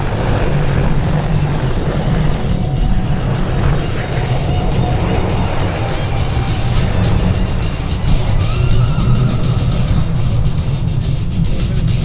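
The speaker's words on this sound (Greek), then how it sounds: "Το επιθετικό ελικόπτερο απομακρύνεται και θα εκτελέσει με μέγιστη ταχύτητα low pass" A loud, steady roar of an Apache attack helicopter making a fast low pass at an air show, with a dense broadband rotor and engine din and faint crowd noise beneath.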